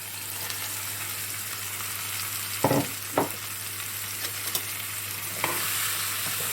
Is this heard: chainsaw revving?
no